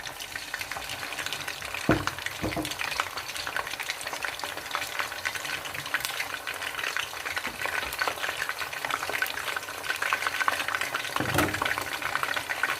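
Fish fillets frying in oil in a pan for a fish masala curry, a steady crackling sizzle running throughout at close range, with a few louder spatters and pops along the way and no talking.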